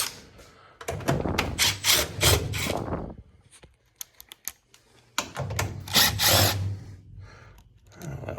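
A cordless power drill backs out the cover screws on a residential central air conditioning unit during a maintenance call, with two close whirring bursts separated by a pause and brief clicks between them.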